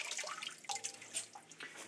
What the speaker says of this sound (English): as you move the greens through that middle section of water, should get rid of all those seed holes